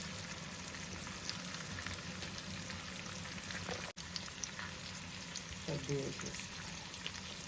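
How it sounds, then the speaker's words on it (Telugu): Prawns fry gently in a pan for a Telugu-style prawn biryani, giving off a soft, steady sizzle while a person talks over the cooking. "ఇవి వేగిపోతున్నాయి"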